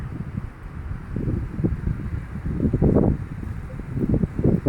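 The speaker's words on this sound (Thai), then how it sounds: "วันนี้อากาศดีนะคะลมแรงทีเดียวค่ะ" Strong wind gusts buffet the microphone outdoors beside a white Honda City V CVT sedan, producing low rumbling bursts that swell and fade in irregular waves.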